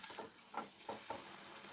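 Navane (foxtail millet) puri frying in hot oil, a soft sizzling hiss with a few faint bubbling pops, quiet and close with no voices.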